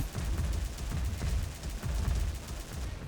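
The Greedy Wolf gun in the online shooter XSHOT fires in rapid, evenly spaced automatic bursts. The shots are loud and sustained, with no talking.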